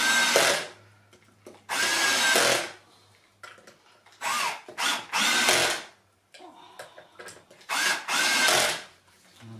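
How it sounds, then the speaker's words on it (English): A cordless drill driving very small screws into the hinges of an Ashford Kiwi 3 folding spinning wheel, in about six short whirring bursts separated by pauses, close up and loud. "just for speed I'm going to use the cordless drill"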